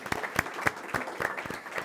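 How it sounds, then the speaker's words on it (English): Conference audience at a US-Mexico border event applauding its four panelists, a brief, close burst of many hands clapping with no voices over it. "Please join me in giving them a round of applause."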